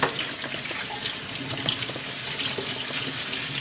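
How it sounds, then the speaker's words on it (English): A kitchen tap runs steadily while crab is rinsed under it, an even close splashing stream of water that stays constant throughout with no pauses. "You rinse that off"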